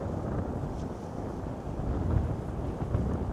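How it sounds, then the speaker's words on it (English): Strong gusty wind buffets the microphone outdoors at sunset, a steady low rumble with swelling gusts throughout, close and fairly loud, with no voices. "The wind is truly gnarly."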